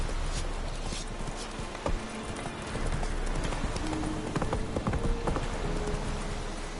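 Roach the horse walks in The Witcher 3 video game, with hooves clip-clopping in an irregular, fairly close rhythm over a steady ambient wash.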